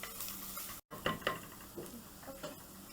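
Green chillies sauté in a clay pot for prawn thokku, with quiet stirring scrapes and a few soft knocks over a faint sizzle, briefly cut by a short dropout.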